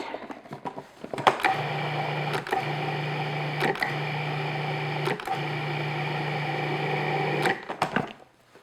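Food processor pulsing pie pastry dough for a cranberry raisin pie, a steady close motor whir running about six seconds, broken by brief clicks and stutters from the pulsing, then stopping.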